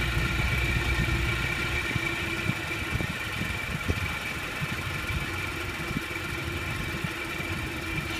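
Mercury 50 outboard motor idling at low RPM, a steady close rumbling drone with a faint whine and occasional small knocks, running alone with no voices.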